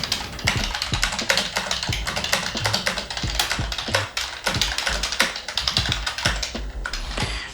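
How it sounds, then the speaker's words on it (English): Steady typing on a Logitech K480 wireless keyboard, a continuous run of close, crisp key taps with an irregular rhythm and no talking. "So now we're gonna do a typing test."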